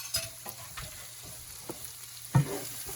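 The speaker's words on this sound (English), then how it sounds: "I'm going to add now the garlic." Garlic fries in a pan over medium-low heat for chicken biryani: a quiet, steady sizzle with a few soft stirring knocks, the loudest near the end, and no talk.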